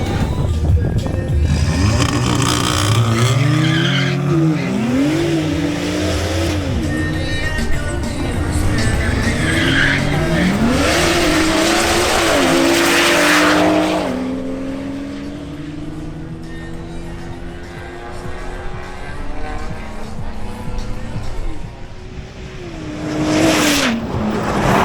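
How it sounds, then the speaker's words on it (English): A BMW M340i xDrive makes a drag race run, and its engine revs hard through repeated upshifts with rising and dropping pitch. Tire noise comes with the loud pull before the sound eases off, and a brief burst returns at the end. "Now Duvin Cedino in his BMW M340i xDrive makes another run."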